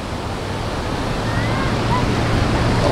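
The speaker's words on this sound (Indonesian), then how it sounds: "Ombak." Ocean waves wash onto the beach at Pangandaran in a steady broadband roar, with wind buffeting the microphone and faint chatter from nearby people.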